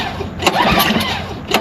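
An engine with a carburetor being reprimed after its fuel was drained cranks in close, repeated bursts without catching, the starter churning loudly across the short stretch.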